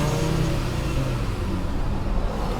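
A car engine revs steadily up close with a continuous loud rumble and mechanical whine, no pauses or voices over it.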